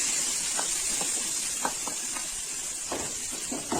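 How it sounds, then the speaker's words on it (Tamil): Tomato paste hits a hot pan while cooking a Tamil egg curry, giving a steady close hiss of sizzling with a few soft crackles and pops, and no voices. "இப்ப எடுத்து வச்சிருக்கிற இந்த தக்காளி பேஸ்ட் சேர்த்துக்கலாம்."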